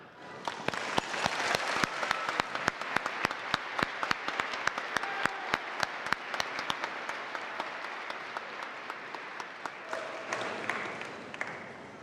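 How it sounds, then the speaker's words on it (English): Sustained applause from a commencement audience at a winter graduation ceremony, with dense rapid clapping filling the hall at a steady level throughout, fading slightly near the end. "Please join me in offering them a heartfelt round of applause"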